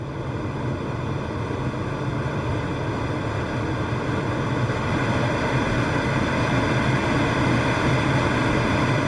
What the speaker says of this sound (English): you will hear your glider movements soaring through the air and clouds